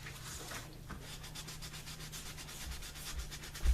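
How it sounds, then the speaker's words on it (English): Dyed leather parts are buffed with a rag to lift excess dye, giving a steady close-up rubbing and scuffing texture with soft rhythmic strokes over a low hum. "So the buffing rag serves a couple of purposes. It gets that excess dye off"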